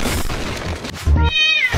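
A cat meows in a short TikTok clip: a couple of close, loud, wavering meows with a brief cut in between, heard on their own with no talking.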